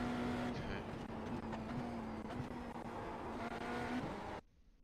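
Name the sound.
race car engine shifting gears in the video game iRacing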